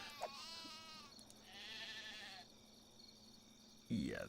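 Sheep bleat in the video game Black and White 2, a few wavering nasal calls over a faint steady background hum, one after another, with a sharp louder sound at the end.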